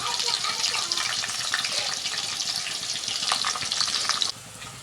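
Hot oil sizzles steadily in a pan of fish curry being cooked, a continuous bright crackle that stays close and loud before dropping off abruptly near the end.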